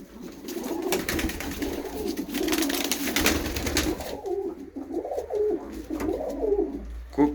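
Pigeons cooing in a loft after vaccination, steady overlapping throaty coos at close range, with some rustling and no talk.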